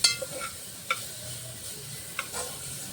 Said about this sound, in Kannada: ಪಾಲಕ್ ಏನು ಕಟ್ ಮಾಡ್ಕೊಂಡಿದ್ದೆ ಅದನ್ನು ಹಾಕಿ ಸ್ವಲ್ಪ ಡ್ರೈ ರೋಸ್ಟ್ ಮಾಡ್ತೀನಿ ತುಪ್ಪದಲ್ಲಿ